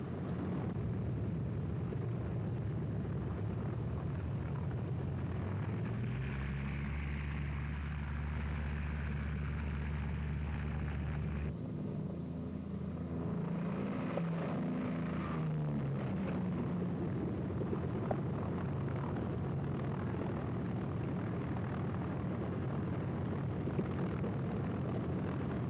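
WWII fighter aircraft engines rumble at a distance as they take off, a low steady roar that swells, cuts off abruptly partway through, then returns under broadband noise.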